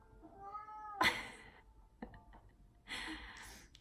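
A cat gives a few short meows, close and fairly quiet, with brief pauses between them and no talking over them.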